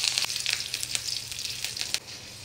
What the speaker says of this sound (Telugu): ఈ పోపు కొంచెం వేగాలి